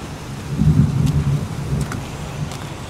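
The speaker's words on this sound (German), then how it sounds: "Es regnet wie aus Eimern." Heavy rain with a low rolling rumble of thunder in the game Heavy Rain, a steady hiss of downpour with the deep swell peaking early and fading, no voices.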